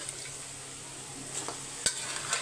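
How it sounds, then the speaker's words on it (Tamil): Quiet sizzling of mutton frying in a pan with a few scraping stirs and a sharp clink of a utensil against the pan. "இப்போ வெறும் மட்டனை மட்டும் சேர்த்து ஒரு அஞ்சு நிமிஷம் குக் பண்ணிக்கலாம்"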